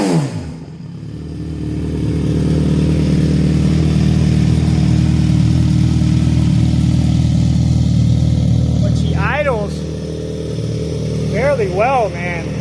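A 2024 Suzuki GSX-S1000 fitted with a full Dominator exhaust rumbles loudly and close, a deep steady idle swelling into a sustained rev before settling, with brief higher chirps near the end.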